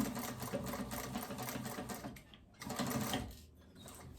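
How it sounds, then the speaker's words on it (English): A sewing machine stitches a fabric phone pouch, running in steady continuous bursts with a brief pause before starting up again, loud and close with no talking. "So you sew, and then you'll flip it over and top stitch"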